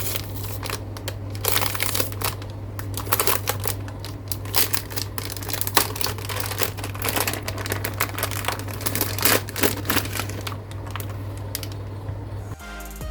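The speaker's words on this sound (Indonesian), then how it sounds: "Tapi sebelum itu kita kletek dulu dong plastiknya." Plastic wrapping is torn open and crinkled off a new Fantech Maxfit61 Frost keyboard, a steady close stream of crackling, rustling and sharp crinkles over a low hum, ending in a brief thump.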